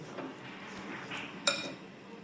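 Soaked and squeezed soya chunks for soya chilli are mixed in a bowl with soft, steady rustling and squelching, and one bright clink of a utensil against the dish partway through.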